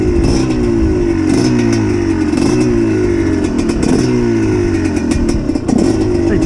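A GPX TSE 250R motorcycle engine runs steadily at idle up close, a continuous low throbbing rumble with light mechanical clatter and small fluctuations in pitch, no voices over it.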